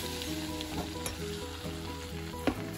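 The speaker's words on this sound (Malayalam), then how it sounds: "ഇതിലേക്ക് നമുക്ക് കുറച്ച് കുറച്ചായിട്ട് മൈദ ആഡ് ചെയ്തിട്ട് മിക്സ് ചെയ്തെടുക്കാം." Maida flour is stirred into melted butter in a pan for a white sauce, crackling with a bright, steady sizzle and scattered spoon clinks over a low hum.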